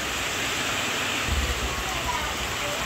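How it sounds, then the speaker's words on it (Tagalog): Heavy rain has been falling without stopping since the day before, a loud, steady roaring wash that fills the whole background, with no gaps. "Grabe po ang lakas ng ulan."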